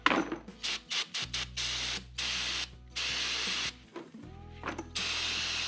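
Cleaner is sprayed to wash grime out of Jeep Wrangler JL brakes in repeated loud, close hissing bursts, some short and some held for a second or more, separated by brief pauses.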